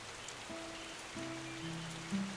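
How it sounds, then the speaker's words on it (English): Steady rain patters on a surface in the video game Norland, a continuous soft hiss with a few faint tonal game sounds layered over it, no talking. "It is literally raining, and my crops died from drought."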